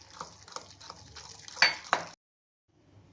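A spoon stirs semolina batter with yogurt in a bowl for suji toast, giving soft scraping and light clinks of utensil against dish, with two sharper clinks near the end before silence.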